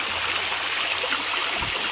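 Cold mountain stream water flowing steadily on the way to Zalzal Lake in Azad Kashmir, Pakistan, a close, continuous gurgling rush with no talk over it.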